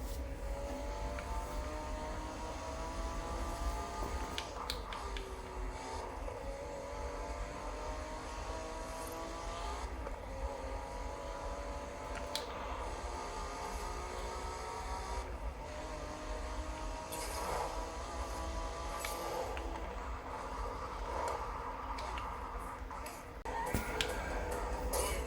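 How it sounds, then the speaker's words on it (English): Arcade racing in Hot Shots Racing played on a laptop: steady droning engine whine with rising pitch sweeps as cars accelerate, continuous and moderately loud, with no talk. "Next up is Hot Shots Racing. It's one of those arcade racing games"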